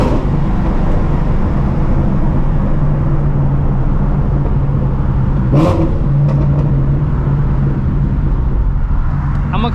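A car drives steadily along the road with continuous engine and tyre noise, a near and constant drone with a brief louder swell partway through.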